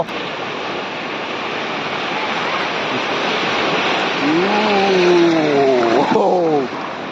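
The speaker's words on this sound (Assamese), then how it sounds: "চাইছে ইয়াত ঢৌ এটা আহিব" Ocean waves break on the shore at Juhu Beach, Mumbai, in a steady, loud wash of surf that continues throughout, with a few rising and falling vocal calls near the end.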